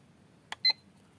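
A cube desk clock switching into alarm mode gives two quick, close electronic beeps, the second slightly longer, in a quiet room.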